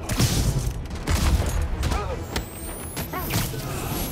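Rapid bursts of gunfire in the Marvel's Spider-Man Remastered video game, loud and close, rattling through a dense action mix with game voices speaking over it.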